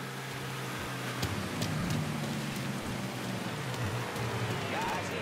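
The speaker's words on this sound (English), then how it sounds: "I could do with a little less rain." Steady video game rain in Mafia III falls in a dense, even hiss, with a soft low rumble underneath and a few brief sharper spatters.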